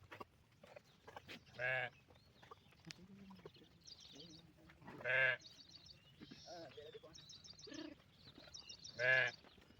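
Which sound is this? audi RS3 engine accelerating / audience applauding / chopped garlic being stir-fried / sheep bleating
sheep bleating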